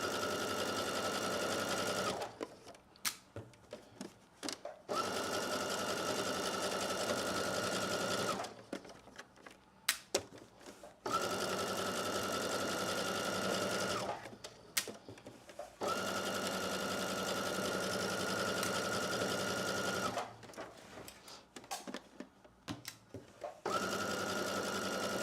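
Sewing machine stitching a slip dress, running in long steady stretches of several seconds each, broken by short pauses with faint handling clicks; close and even, with no talking.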